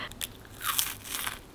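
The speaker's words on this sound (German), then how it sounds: "Jetzt reinbeiße" Teeth biting into a crunchy viral TikTok candy: a short, close, crisp crunch followed by a couple of crackling chews, brief and clear with no talking.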